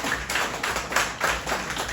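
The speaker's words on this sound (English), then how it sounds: "Round of applause for Miss Pat for helping us out." Scattered audience clapping at a magic show greets a volunteer, a few hands patting in uneven bursts that swell and dip, fairly near and alone without talk.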